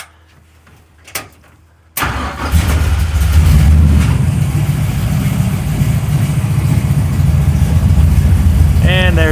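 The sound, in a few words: race car engine starting and idling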